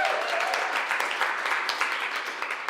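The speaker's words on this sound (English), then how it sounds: "let's give them another round of applause before I get all emotional." Audience at a social purpose marketing awards event gives a sustained round of applause, a dense, even wash of clapping that carries steadily throughout without any talking.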